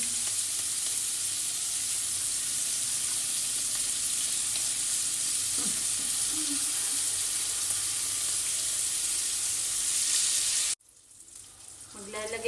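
Boiled pork belly (liempo) sautéing in a pan with oyster sauce, a loud steady sizzle close up that cuts off abruptly near the end, followed by a quieter moment.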